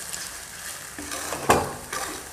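Leftover rice biryani mixture being stirred and fried in a pan, soft sizzling under scraping strokes, with one sharp clink of the spoon against the pan midway; close and fairly quiet, no talk.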